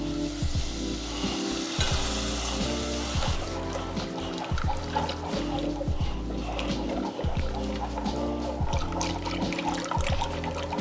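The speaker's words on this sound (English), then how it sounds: "Then we go ahead and start adding" Milk poured into a cooking flour roux for mac and cheese gives a steady close sizzle and bubbling hiss, with wet stirring scrapes and sloshing throughout, loud and continuous.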